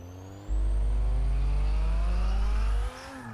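Nissan Skyline GT-R R32 engine in Forza 6 revving hard for over two seconds, a loud sustained roar with rising pitch that cuts off sharply, with no talk.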